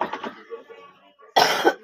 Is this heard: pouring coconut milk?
no